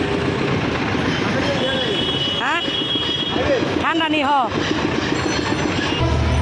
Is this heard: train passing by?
yes